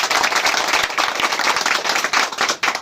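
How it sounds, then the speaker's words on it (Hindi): An audience at a company leaders' meeting claps for the CMD, a loud, dense burst of many hands lasting a few seconds with sharp individual claps standing out, no talking. "मैं चाहूंगा एक बार CMD सर के लिए एक बार जोरदार ताली हो जाए"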